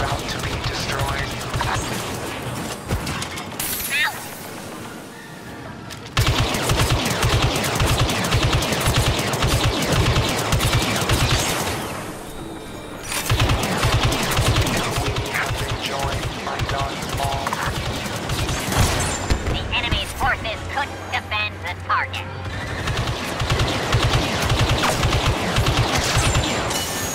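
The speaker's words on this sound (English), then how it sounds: "Keep shooting. The Minotaur is about to be destroyed." Dense, continuous blaster and gunfire from a Star Wars Battlefront II battle, loud rapid volleys running almost nonstop for nearly half a minute with brief lulls, mixed with explosions and game music.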